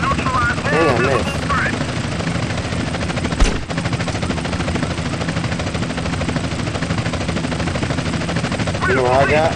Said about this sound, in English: This is helicopter support.